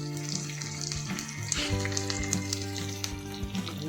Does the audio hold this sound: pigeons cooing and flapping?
no